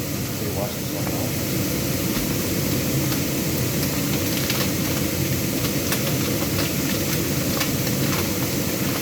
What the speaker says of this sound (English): We saute for a few minutes the garlic and the onion